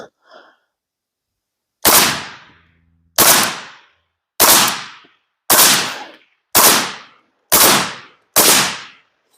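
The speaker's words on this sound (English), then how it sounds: "So let's pop a few rounds down range." Seven sharp rifle shots ring out from a Keltec RDB fitted with a red dot sight, firing 7.62x39 rounds outdoors, each loud crack followed by a short decaying echo, spaced about a second or so apart.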